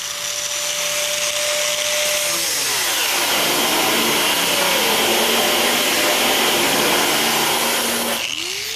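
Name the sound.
angle grinder cutting diamond plate until it smokes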